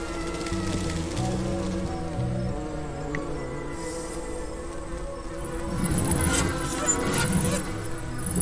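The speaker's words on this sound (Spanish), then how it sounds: "Más abejas." Bees buzzing in the greenhouse level of the Tandem: A Tale of Shadows video game, a steady droning hum running throughout over background game sounds, with a few brighter clicks and swells toward the end.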